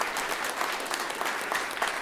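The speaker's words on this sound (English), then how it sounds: "Huge round of applause for Saron." A crowd at an evening show gives a big round of applause for a performer, a thick, even wash of many clapping hands sustained throughout, with no clear voices.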